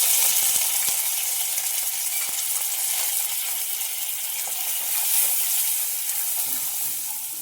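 Cumin, turmeric and curry leaves sizzle steadily in hot oil for a brinjal capsicum gravy, a close, continuous bright hiss with occasional small pops and no talking.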